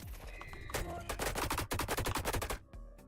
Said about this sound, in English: Let's just recheck our beam cannon here real quick.